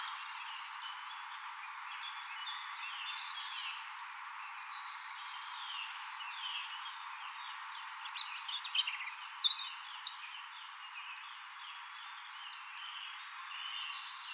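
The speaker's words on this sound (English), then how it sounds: "Here's a video I captured of two robins squaring off against each other." Two robins calling in a forest, thin high chirps and short tweets scattered over a soft background, with a brief louder cluster of calls near the end.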